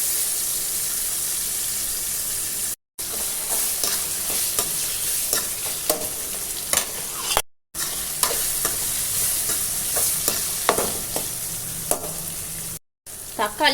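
Tomatoes for crab curry sauté in a pan, giving a steady close sizzle with frequent scraping and stirring strokes and brief gaps, with no talking.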